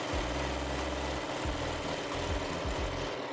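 A serger runs continuously along a fabric edge, a close, loud mechanical whir with rapid stitching vibration that barely changes, no voices.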